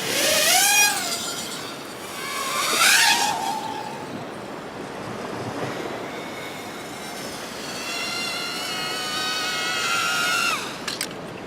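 A Dromida Kodo micro quadcopter's motors whine close by, the pitch sweeping up and down as the throttle changes, over a constant airy rush.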